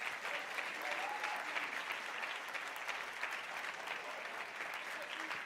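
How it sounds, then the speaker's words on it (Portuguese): A church congregation applauding during a service, sustained, even clapping from a large crowd with a faint crowd murmur underneath, quiet and somewhat distant. "Uma salva de palmas para Jesus."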